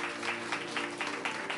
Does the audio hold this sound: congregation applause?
yes